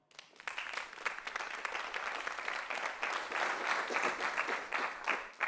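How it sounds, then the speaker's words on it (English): Warm applause from a conference audience at a Bitcoin technical and investor event, steady dense clapping rising after a quiet start and continuing throughout. "Give a warm round of applause for Mike"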